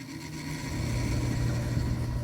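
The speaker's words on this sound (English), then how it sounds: "that is the sound of the gears and the belts tightening and spinning those drums and horns." Mechanical whirring and humming of a Leslie speaker cabinet on a gospel organ, with gears and belts spinning the rotating drums and horns: a steady, fairly faint churning drone with no voices.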